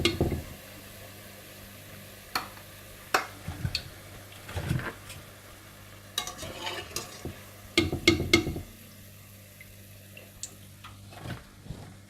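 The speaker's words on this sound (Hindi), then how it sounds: "इसी तरह से आप बाकी पकोड़े भी फ्राई करके निकाल लीजिएगा।" Spring onion pakoras frying in hot oil, giving a soft continuous sizzle broken by scattered sharp clinks and scraping bursts from stirring and lifting, heard close and alone.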